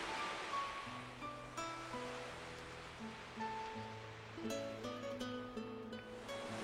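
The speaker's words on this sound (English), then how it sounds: "I can hear the sound of waves in the distance." Ocean waves wash softly in the distance, a steady surf hiss lying under gentle melodic music.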